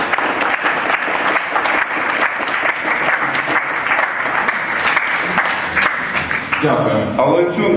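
An audience claps together in a loud, sustained round of applause filling the hall, with a steady pulse of hand claps and crowd noise throughout.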